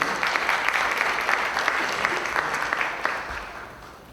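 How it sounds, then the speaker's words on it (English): Audience at a 2024 luncheon series event applauds steadily for about four seconds, a dense wash of many hands clapping that fades slightly toward the end, with no talk over it. "let's give Josh a round of applause."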